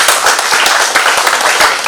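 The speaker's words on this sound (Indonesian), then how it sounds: "tepuk tangan yang meriah." Audience at an election literacy training session claps together, a dense steady patter of many hands with no voices over it, loud and close throughout.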